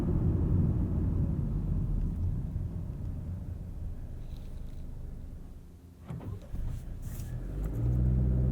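A 2023 Honda Accord EX with the 1.5-litre turbo engine revving hard at high RPM, a loud, steady mid-range engine roar heard from inside the cabin, dipping briefly and then swelling again.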